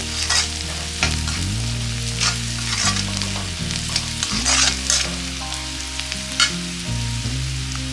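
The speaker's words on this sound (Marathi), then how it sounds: "आता यात हळद टाकून घेऊया। परतून घेऊया 1 मिनिट" Potatoes and peas with turmeric sauté in a pan for poha, a loud close sizzle with repeated stirring scrapes and bursts, over steady background music.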